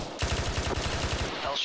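A rapid burst of automatic gunfire in an ArmA 3 firefight, about fifteen closely spaced shots in a second and a half, fairly close and sharp.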